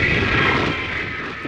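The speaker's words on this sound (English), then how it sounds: "our plane touches down at Heathrow Airport" A passenger airliner landing at Heathrow Airport: a steady, loud engine roar that fills the whole clip and eases slightly toward the end, with no talking.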